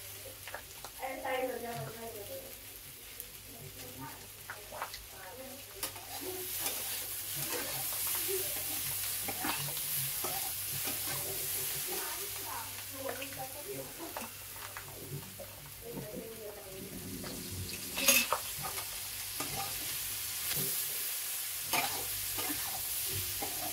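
Rice flour and cornflour being worked into a jackfruit seed cutlet mixture, giving soft, irregular stirring and scraping sounds over a steady background hiss, with a faint voice at times.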